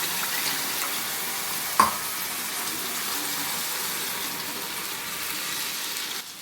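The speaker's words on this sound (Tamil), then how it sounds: "நல்லா கிளறி விட்டுருங்க." Steady broadband sizzling and soft scraping from a cooking pan as masala is stirred into vegetable kurma with added water, with one sharp clink partway through and no voices.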